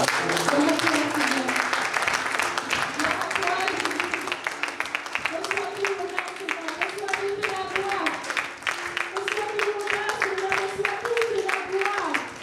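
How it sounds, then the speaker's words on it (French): A church congregation applauds during a worship service, with steady, dense clapping running through the whole stretch beneath voices and musical tones. "Est-ce que tu peux applaudir?"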